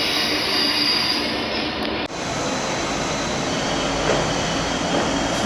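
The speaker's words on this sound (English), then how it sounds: "Metro leaving for UQ Lakes." A Brisbane Metro vehicle pulling away from Boggo Road station, a steady rolling roar with a thin high whine, a brief dip near the start and no voices.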